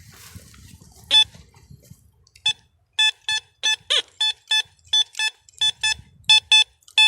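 A metal detector passing over a shallow buried target, sharp high electronic beeps in quick bursts, one early then a rapid repeating series of about a dozen, loud against quiet background with faint rustling.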